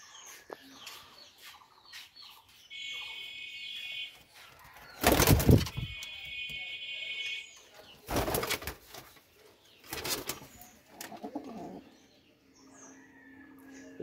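Racing pigeons in a loft make soft repeated cooing, broken by several loud, brief bursts of wing flapping close by.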